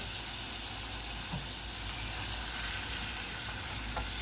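Oil sizzles and crackles steadily as chicken karaage is double-fried, a continuous hiss with a couple of soft clicks and no talking.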